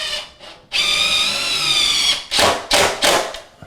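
A power drill drives 3-inch cabinet screws through a cabinet into a wall, with two short trigger blips followed by a long steady whine and then several quick bursts as the screw seats.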